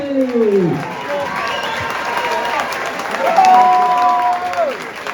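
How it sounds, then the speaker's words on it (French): Crowd applause and cheering for a youth football team from the Toulouse Métropole FC, a dense steady roar of clapping lasting throughout, with a voice speaking over it at the start and again near the end. "Maximum d'applaudissements pour l'équipe du PMFC"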